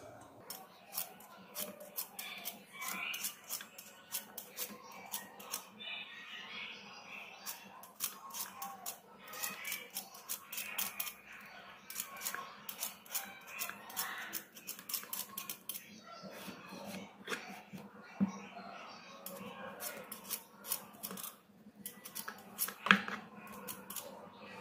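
Washed potatoes being peeled for air-fryer French fries, giving a quick run of soft, scraping strokes that repeat irregularly at close range, fairly faint, with no talking.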